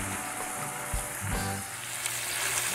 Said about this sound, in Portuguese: eu já fritei de um lado e de outro, né? A costelinha.